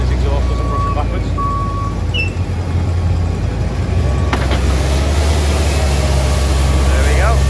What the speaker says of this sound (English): Andrew's got the broom on the front of the JCB